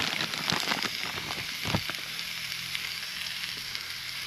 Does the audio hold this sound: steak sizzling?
yes